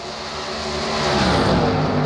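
NASCAR Cup Series stock cars roaring past at Pocono, a loud, sustained engine drone that swells steadily over about two seconds as the pack approaches, with no talk over it.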